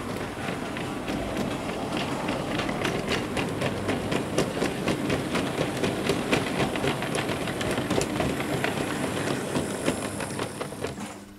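A model train locomotive runs continuously with a steady rumble, its rapid rhythmic chuffing beats and mechanical clatter filling the whole stretch with no talking.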